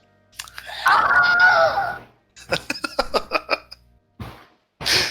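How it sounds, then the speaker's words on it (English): A Wilhelm scream sound effect plays during a tabletop role-playing game session: a loud, sustained, wavering cry lasting over a second, followed by bursts of lively chatter and laughter. "Oh, Wilhelm showed up. Just for the scream."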